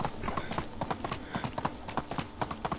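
Horse hooves clip-clop in the video game Medieval Dynasty, a quick irregular run of sharp hoof strikes close by, with a faint voice in the background.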